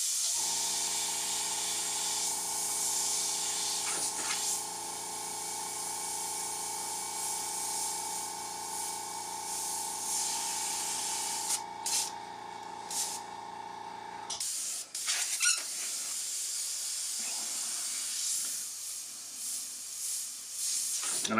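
Steady airbrush spray hissing continuously while painting a sepia-toned freehand piece, loud and close for about fourteen seconds, then cutting off to quieter intermittent bursts and faint handling noises.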